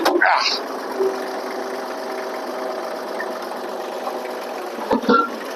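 A 1954 mega cab truck engine holds a steady mid-pitched running drone as it pulls away in first gear, with a brief louder rev near the start and a short clunk and voice near the end.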